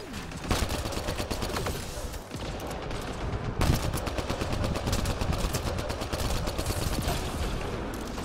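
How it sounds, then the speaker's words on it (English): Rapid gunfire from the video game Mass Effect Andromeda, bursts of automatic shots and impacts rattling continuously in a dense, loud combat mix. "Where the fuck are these guys shooting me from?"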